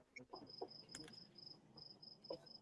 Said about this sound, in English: Yeah, I heard little crickets too.